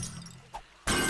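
Glass is removed and breaks in the 7 Days to Die video game, a faint knock followed by a sudden loud shattering crash that carries to the end.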